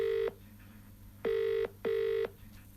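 A telephone ringback tone at the start of a call, three steady beeps with pauses between them, clear and close, with no voices.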